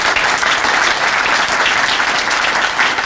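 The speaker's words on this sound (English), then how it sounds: "A real big round of applause." A crowd at a library branch grand opening breaks into loud, dense applause that stays even and unbroken throughout, with no talking over it.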